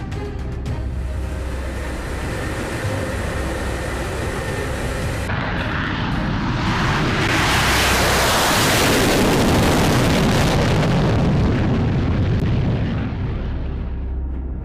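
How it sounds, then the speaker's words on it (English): An F-16 fighter jet roars past, the engine noise building from a steady rumble into a loud, broad rushing blast that stays strong before easing slightly at the end. "Here is the advanced fighter jet F-16."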